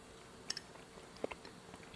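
Faint, close chewing of spinach ravioli with a couple of soft bites and moist mouth sounds in a quiet room.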